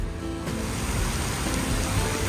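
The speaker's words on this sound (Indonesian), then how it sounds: "Cuaca di luar hujan deras banget" Heavy rain pours outside a bus shelter in Malang, a steady dense broadband hiss running unbroken throughout, fairly loud and close, with no talk over it.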